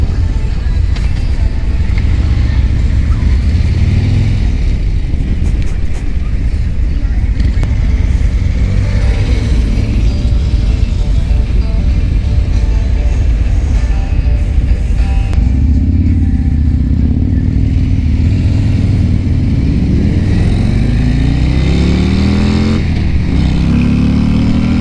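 2022 Harley-Davidson Road Glide ST motorcycle accelerating hard, a loud close engine roar with rising revs through the gears, dropping briefly at shifts before climbing again, wind rush throughout.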